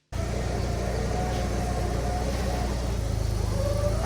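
A forklift engine starts up abruptly and then idles at a steady, loud rumble for several seconds, close by and alone.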